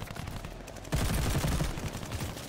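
G43 rifle fire in Call of Duty: Vanguard, a dense burst of sharp shots that starts suddenly about a second in and keeps hammering loudly to the end, with no voices.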